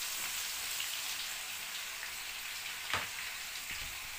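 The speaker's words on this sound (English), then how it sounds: "So this is onion cooking." Onion frying in a pot for efo soup with spinach and habanero, a close, steady hissing sizzle like light rain, with one brief clatter near the end and no voices.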